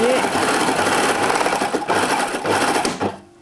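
Sewing machine stitching a swimsuit, a steady fast mechanical chatter with brief pauses, someone speaking over it before it stops.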